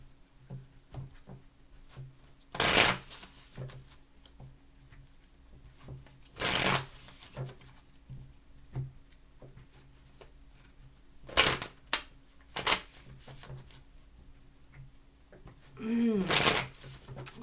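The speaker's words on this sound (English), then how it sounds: "Last shuffle." A deck of tarot cards is shuffled in several loud riffling bursts separated by quieter handling, tapping and card sliding, with a brief low voiced hum near the end.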